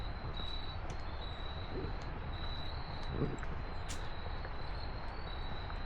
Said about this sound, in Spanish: Escuchan las chicharras, los grillos, las grillas.